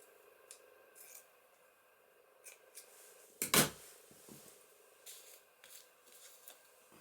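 Scissors snip once through a piece of cheesecloth, a single short, crisp cut standing out against quiet room tone with faint handling rustles before and after.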